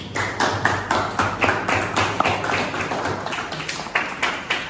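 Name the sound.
clapping for a group of students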